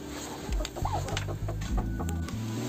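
Hens cluck in short repeated bursts nearby, with a brief higher squawk among the low, throaty calls.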